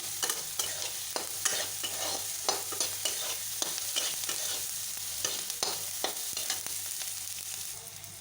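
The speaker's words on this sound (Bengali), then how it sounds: "আমি এগুলোকে এবার ভালো করে ভেজে নেব" Onions with turmeric fry in a pan for an egg and soybean curry, giving a steady close sizzle broken by regular scraping stirs, with no one talking.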